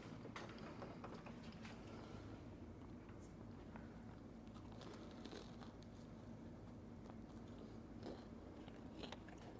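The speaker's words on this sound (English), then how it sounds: "Hopefully this isn't too loud, me like crunching on this pizza" Someone bites into and chews fluffy homemade pizza, a close, quiet, repeated crunching and munching that goes on steadily throughout.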